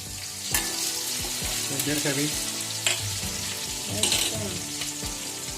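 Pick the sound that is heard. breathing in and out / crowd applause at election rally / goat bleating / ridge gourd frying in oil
ridge gourd frying in oil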